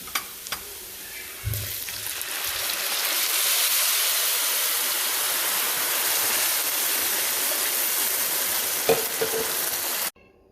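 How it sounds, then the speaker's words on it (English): Water is poured into a hot pot of fried rice on the stove, setting off a loud, steady hiss and sizzle that builds quickly and holds for several seconds before cutting off abruptly. "I'm gonna add the water to my rice."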